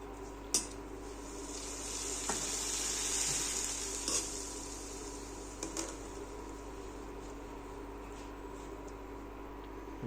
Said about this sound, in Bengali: ভালোভাবে নাড়িয়ে নিতে হবে।